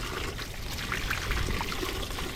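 Water pours and splashes steadily while flushing sand, shells and salt corrosion out of a boat, a continuous close, fairly loud gush with no talk.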